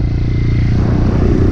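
A dirt bike engine drones loudly and steadily while the rider holds the throttle through a wheelie attempt, its rough low rumble continuous and close with no talking over it.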